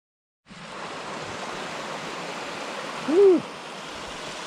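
Merton Creek, a famous creek crossing, rushes in a steady broadband wash, close and continuous after a brief silent start, with one short tonal chirp partway through.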